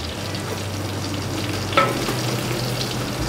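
Carrots, onions and celery fry in a soffritto for fettuccine ragù, giving a steady close sizzle throughout, with a brief clatter of stirring partway through.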